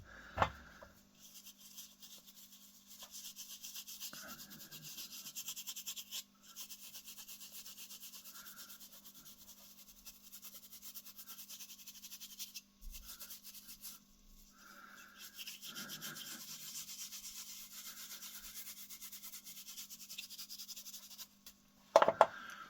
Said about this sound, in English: I'm going to apply the wax now, and I've got this finishing wax here